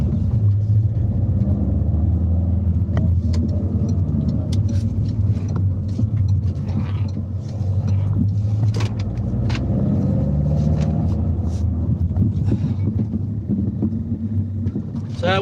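A car cruises along a road, its engine and tyre rumble forming a steady, close, low drone that continues without a break for the whole stretch.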